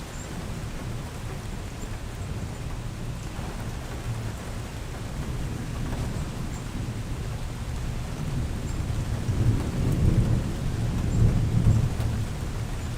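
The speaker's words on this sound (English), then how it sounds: "I'm gonna put the mic up so you can hear the rain from here at least." Steady rain falls through a thunderstorm, a dense hiss with low rumbling thunder swelling toward the end, heard from a sheltered spot with no talking.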